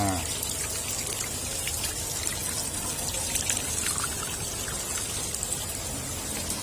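Water pours and splashes steadily through an Artemia sieve as brine shrimp eggs are rinsed, making a continuous close hiss of trickling water with no pauses.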